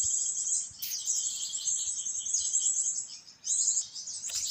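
Birds call in a dense forest near pine trees, a shrill, sustained chirping chorus that carries on almost without break, with a few brief dropouts, over a quiet background.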